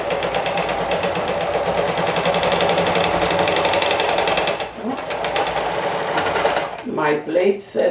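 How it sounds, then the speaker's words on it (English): A sewing machine runs in a rapid, steady stitching whir with a brief slowdown midway, then stops as a voice begins speaking. "because I've sewn with my sewing machine"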